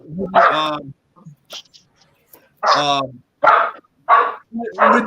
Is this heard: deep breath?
no